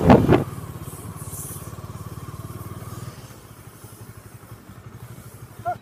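A Bajaj Dominar 400 BS6 motorcycle rides along city streets, its engine a steady low rhythmic thrum that drops in level partway through, with a short loud burst at the start and no talk.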